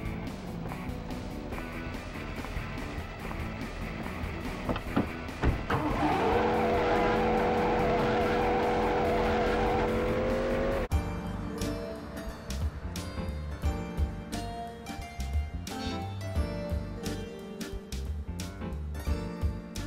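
A car driving in a GTA game, with a steady engine roar, a rising revving stretch in the middle, then busier engine noise mixed with clicks and scrapes, loud and close over the whole span.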